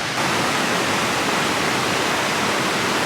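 The main waterfall on the Ingleton Waterfalls Trail in North Yorkshire roars close by as a loud, steady rush of water that fills the whole clip without a break.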